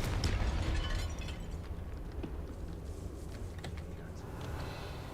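The Confringo explosion spell fires in a Harry Potter video game, opening with a loud, deep rumbling blast that trails off into a sustained low roar.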